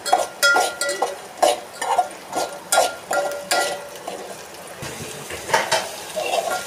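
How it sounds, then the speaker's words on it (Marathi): Mixed vegetables being sautéed in oil in a pan for a vegetable soup, stirred in a regular rhythm of scraping and clinking strokes over a quiet sizzle, loud and close, with no talking. "आपण सर्व भाज्या टाकून घेतलेल्या आहेत, यांना चांगले थोडंसं शिजून देऊया"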